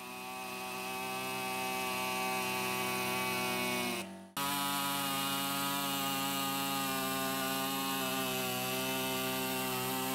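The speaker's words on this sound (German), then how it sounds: "dann hole ich wohl mal die Stichsäge und säge da." A jigsaw whines steadily with a harsh motorized drone, briefly cutting out for a moment before starting up again and running on loudly.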